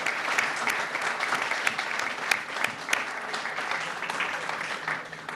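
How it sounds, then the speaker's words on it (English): Applause fills the room at a chamber of commerce legislative reception, a dense, sustained clapping from a sizable crowd at moderate volume, with a few sharper claps standing out. "So how about a great round of applause"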